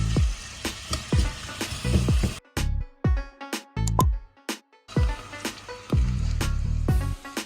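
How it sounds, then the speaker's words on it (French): Onions sweat in a hot pan with a close sizzling hiss, broken by several sharp clanks and scraping stirs that come in uneven bursts, with no talking. "Là les oignons vous les faites suer"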